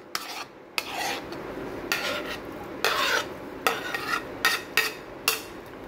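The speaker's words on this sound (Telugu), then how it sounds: "నెక్స్ట్ వచ్చేసి మిక్స్ అయితే చేసుకోవాలి" Smashed avocado being mixed with onions and tomatoes in a bowl: a series of close, rhythmic scraping and squelching strokes, some separated by brief pauses, growing quicker toward the end.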